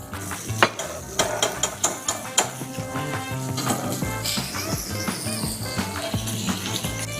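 Butter sizzles in a very hot pan while an egg is poached, a steady frying hiss beneath clinks and taps of a utensil against the pan, fairly close and with no speech.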